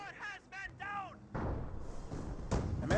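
Auto cannon fire from a World War II strategy game, Company of Heroes, heard as heavy thumping bursts after a voice speaks at the start, continuing as a rough, mid-loud rattle of impacts.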